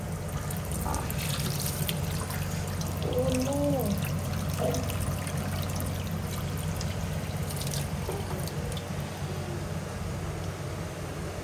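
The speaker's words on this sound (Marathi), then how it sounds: "हे फिल्टरच काढलंय म्हणून मला आता धुयला लावलंय." A fish tank filter is rinsed under a running tap in a sink, with a steady flow of water and some trickling and splashing throughout. A faint background hum sits beneath the water.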